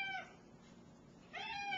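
Two cats give drawn-out meows close by, one at the start and another after a short pause, as a can of tuna is opened in a kitchen.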